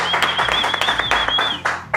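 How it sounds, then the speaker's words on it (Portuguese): Lively applause from a small audience on a cooking show set welcoming a guest, brisk close clapping throughout with a whistle or cheer riding on top. "Uma salva de palmas."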